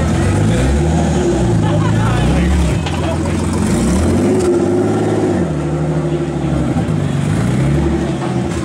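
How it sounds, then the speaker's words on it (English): A loud twin-turbo car engine roars and revs up and down repeatedly on a dyno, a deep throaty exhaust note with voices talking underneath. "That's an exhaust."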